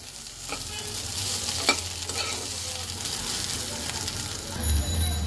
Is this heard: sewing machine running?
no